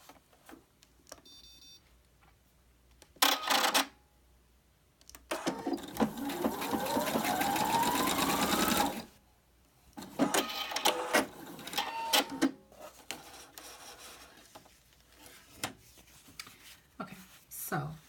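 A Husqvarna Topaz 25 sewing machine with an upper tension problem runs in short bursts, then in one long whirring run of rapid needle clatter, close and fairly loud, with pauses between stitching sessions.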